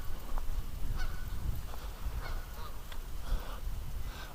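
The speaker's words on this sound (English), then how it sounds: "Actually, you can probably hear the Canada geese in the background." Canada geese honk from a swamp, several short nasal calls scattered at a moderate distance over windy, rumbling outdoor noise.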